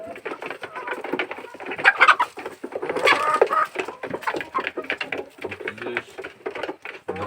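Chickens cluck and squawk in a busy, overlapping chorus while pecking at feed in a poultry yard, calls near and steady throughout with frequent sharp bursts.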